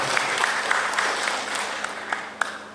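An audience at a women's political education event in Purworejo applauds steadily, a dense wash of clapping with a few sharper individual claps standing out, continuing throughout.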